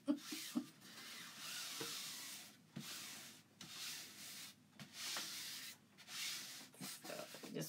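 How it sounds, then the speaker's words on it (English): Chalk Couture silk screen rubbed firmly onto a surface with repeated hand strokes, a soft, close scratchy rubbing that comes in several bursts separated by short pauses, with no talking. "you mostly want to rub where the silk screen is"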